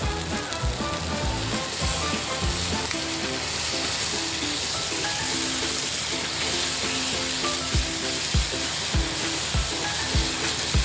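Tomatoes sizzle and sauté in a pan, a dense continuous hiss with regular scraping stirs throughout, close and loud without any talking.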